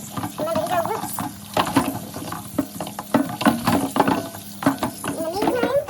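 Dirt-covered roots are scrubbed and rinsed under running tap water in a kitchen sink while preparing posole, a steady splashing and clattering handling with a person talking over it.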